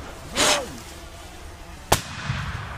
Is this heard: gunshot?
yes